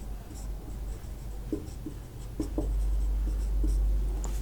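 Someone writes on a board during a physics lesson: a series of short, quiet scratchy strokes with brief pauses over a low room hum, and no speech.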